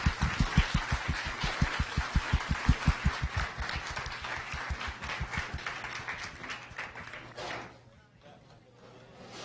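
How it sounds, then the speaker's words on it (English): A museum science-cafe audience claps. Strong, evenly spaced claps open the applause, which spreads into a broader round over murmuring voices before dying away near the end. "let's give them a warm round of applause"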